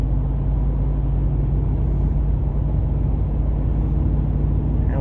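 Steady low exhaust rumble from a 2023 Ford F-150 pickup with an MBRP exhaust, deep and constant throughout, loud and close with no talking.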